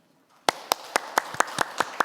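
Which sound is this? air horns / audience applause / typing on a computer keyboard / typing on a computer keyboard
audience applause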